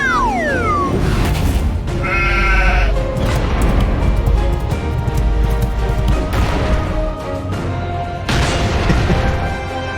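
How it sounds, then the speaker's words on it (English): A sheep's bleat rings out during a charging skill animation in the Exos Heroes game, loud and up front amid booming impacts, whooshes and fiery crashes that continue throughout. "You can see the sheep charging."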